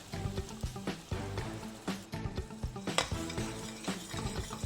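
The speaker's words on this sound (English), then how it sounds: "Now at this stage we're going to add the spinach." Spinach is stirred into a simmering palak paneer gravy, with rhythmic spoon scrapes and soft clanks against the pan over a steady, close sizzle.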